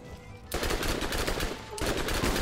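Rapid automatic gunfire from a video game rattles in two long, dense bursts separated by a brief pause, loud and close.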